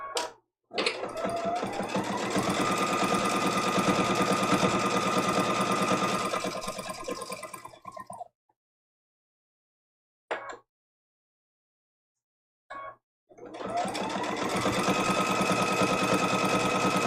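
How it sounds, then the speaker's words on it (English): A sewing machine runs a straight stitch close to a seam line in a quilted trivet border, with steady whirring bursts interrupted by short pauses and a brief stop-start in the middle. "We're going to do a little straight stitch right close to that seam line in the border"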